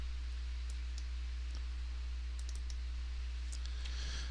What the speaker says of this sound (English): I'm going to double click my part here.